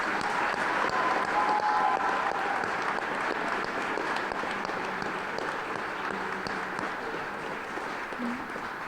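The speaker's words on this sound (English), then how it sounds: "I ask everyone to please join me in one more round of applause welcoming our newest firefighters" Sustained applause from an audience at a fire and emergency services graduation ceremony for new firefighters, a dense, steady wash of clapping that stays loud and even for the whole stretch.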